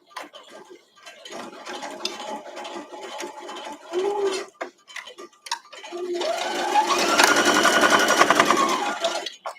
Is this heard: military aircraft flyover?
no